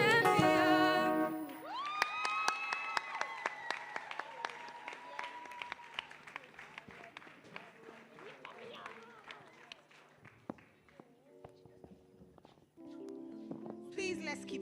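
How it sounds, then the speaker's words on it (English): An audience at a college anniversary celebration applauds performers with sustained clapping and some cheering. Dense, continuous hand claps fill the clip, with a few voices rising over them. "Please, let's keep clapping for them."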